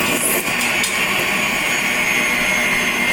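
An electric mixer churns vanilla cupcake batter with flour, a loud, steady whirring drone that holds at constant strength throughout, close up with no talking.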